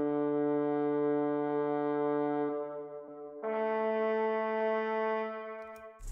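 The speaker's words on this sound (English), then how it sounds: "Next thing I've added was this one-shot brass," One-shot brass sample in a hip-hop beat, two long sustained brassy tones, the second pitched higher, held steady and loud with no talking.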